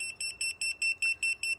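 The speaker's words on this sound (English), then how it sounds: "Just beep, no vibration." A Retekess T112 restaurant pager beeps alone in eight evenly spaced, bright electronic bursts, each a short cluster of quick pips, clear and close.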